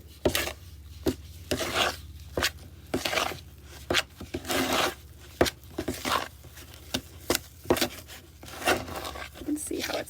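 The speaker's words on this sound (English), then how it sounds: "I'm just going to take the spoon and kind of mix it all up" A spoon mixing and scraping vegan snickerdoodle cookie dough in a bowl, giving repeated close rasping scrapes and soft thuds in an uneven rhythm, with a voice talking in between.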